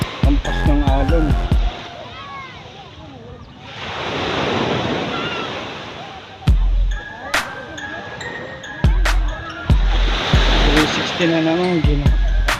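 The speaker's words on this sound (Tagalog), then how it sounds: "Ampas ng alon." Ocean waves surge and wash up on the shore at a Laiya beach camp, with a swelling roar in the middle and wind buffeting the microphone, while people talk and shout nearby.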